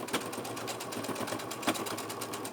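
A sewing machine stitches the inside pockets of a bag, with a short back stitch, giving a steady fast mechanical whir and rattle close by, with a brief louder burst partway through.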